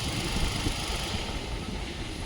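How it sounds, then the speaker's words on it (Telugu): The petrol engine of a 2019 Hyundai Xcent idles in a smooth, unbroken drone, heard up close and holding the same level throughout. "బండి ఇంజిన్ ఆఫ్ చేసి మళ్ళీ ఆన్ చేస్తున్నాను చూడండి."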